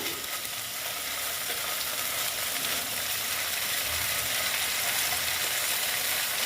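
Stone-ground ginger and garlic paste fries in oil on low heat, giving a steady, close sizzling hiss with faint scraping, unbroken and even.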